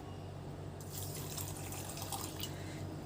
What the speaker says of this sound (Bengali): আর মেশাবো 1 কাপ জল।